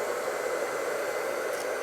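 A hair dryer blows a steady, even stream of air during a portrait photo shoot, a continuous hiss that holds at moderate loudness throughout with no talking.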